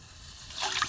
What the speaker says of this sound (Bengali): কিছুটা আমি বাটি মাপ করে জল নেব।